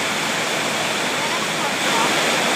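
A heavy rainstorm pours down in a dense, steady roar, close and loud throughout, with no other sounds standing out.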